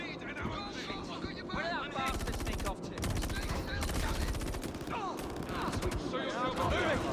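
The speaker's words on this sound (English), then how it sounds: "Suppressing fire!" Rapid machine-gun bursts in a video game firefight, dense automatic fire in long strings with other shots crackling around, loud and continuous, with voices talking and shouting over it.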